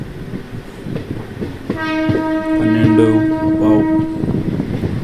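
A passenger train pulls into Gudivada railway station, its rumble building as a loud sustained horn blares for a couple of seconds, with clattering wheels and a few faint voices underneath.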